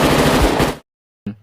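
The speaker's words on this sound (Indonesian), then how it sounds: "Dimulai dengan tes tembak dengan akurasi" Gunfire during a shooting test in the 1998 action film Soldier: a loud, close rapid burst lasting under a second, a brief silence, then one more sharp shot.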